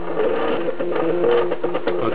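A MakerBot 3D printer's platform, raised by corner screw drives turned through a belt, steps up one notch in the Z axis amid a steady mechanical whir and hum of the running printer.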